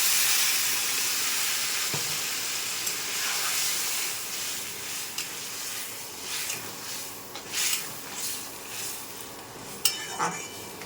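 Water is poured over potatoes cooked down in spices in a pan, and a moderate steamy hiss and sizzle follows with scattered bubbling and stirring scrapes, fairly quiet overall with no talk.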